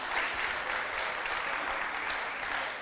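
Steady audience applause at a Brazilian justice panel, dense and sustained clapping from a large crowd throughout, moderately distant and even, with no voices over it.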